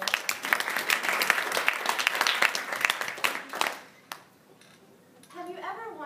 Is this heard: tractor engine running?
no